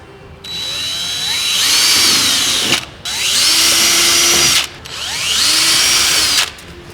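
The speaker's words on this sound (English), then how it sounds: "take your 8mm drill bit and pre-drill the holes" A power drill with an 8mm bit pre-drills holes for a car front splitter, whining loudly in three bursts separated by short pauses, pitch rising as it bites into material, with no talking.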